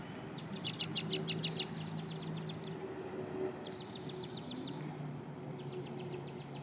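Small birds chirp outdoors in quick, bright bursts of repeated notes, mostly near the start and again around the middle, fairly faint over a steady low rumble.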